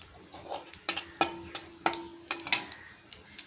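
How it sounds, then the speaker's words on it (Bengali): Whole dried red chilies and cumin seeds frying in hot oil in a wok, heard as a quiet sizzle broken by a series of sharp spatula scrapes and clinks against the pan. "কড়াইতে দিয়ে দিয়েছি গোটা শুকনো লঙ্কা, আর ওপর থেকে দিয়ে দিলাম জিরে"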